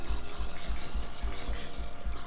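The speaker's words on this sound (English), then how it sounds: "sorry if you hear my dog thumping in the background" A dog with an itching problem thumping its leg while scratching in the background: a steady, rapid series of soft low thuds, evenly spaced and continuous throughout.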